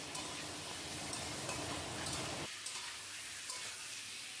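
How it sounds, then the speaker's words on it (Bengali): Fried potatoes being stirred into spices over a low flame for Bengali aloo dum, a soft steady sizzle with scraping of the spoon, quieter after the midpoint. "এবার আমি ভেজে রাখা আলুগুলো দিয়ে মশলার সঙ্গে ভালো করে মিশিয়ে লো ফ্লেমে বেশ কিছুক্ষণ আলুর সঙ্গে আর মশলার সঙ্গে কষিয়ে নেব।"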